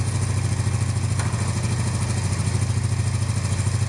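A cafe racer motorcycle running in first gear with its clutch freshly rebuilt, a loud, steady, close low thrum with an even chugging pulse and no talk over it.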